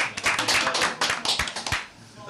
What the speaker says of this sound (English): It's a polite round of applause for a brave man.